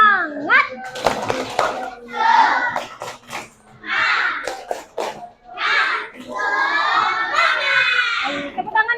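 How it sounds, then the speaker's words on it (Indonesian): Schoolchildren in a classroom perform a rhythmic spirit clapping chant, bursts of group clapping alternating with loud shouted chanting in a quick, lively pattern. "Tepuk semangat."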